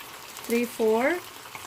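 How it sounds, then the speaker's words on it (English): Karaage chicken pieces bubble and sizzle in hot oil in a frying pan, a steady close hiss running beneath a short burst of speech. "You're gonna fry them for around 4,"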